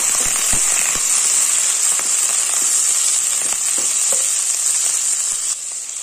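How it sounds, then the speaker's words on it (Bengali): Onions and onion flower stalks fry together in a pan for a Bengali fish curry, producing a loud, dense, crackling sizzle like steady rain, with a few scattered pops and a slight drop in intensity near the end. "পেঁয়াজ আর পেঁয়াজ কলি একসাথে ভেজে নেব"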